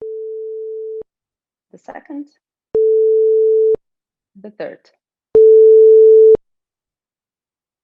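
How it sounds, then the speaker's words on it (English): Three steady pure tones at one low-mid pitch, each about a second long and separated by spoken words, with each tone louder than the one before. "what you heard are 3 different tones with the same frequency,"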